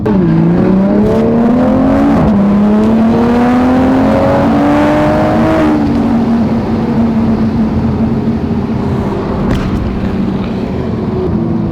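A Toyota Supra street car revving and accelerating hard, loud close engine note climbing through gears with a shift, then holding a sustained roar; no talk.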